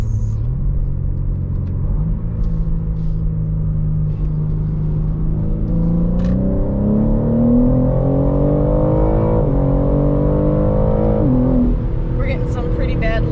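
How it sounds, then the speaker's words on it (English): A 2021 BMW M3 Competition engine pulls hard from inside the moving car, its smooth, steady drone climbing in pitch through several rising sweeps with brief dips between gears. "Just the way BMW motors make power so smoothly and so strong"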